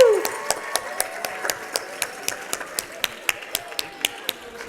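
Steady rhythmic clapping at an expo stage pitch event, crisp claps falling about four per second in an even beat, moderately faint with a low room murmur underneath.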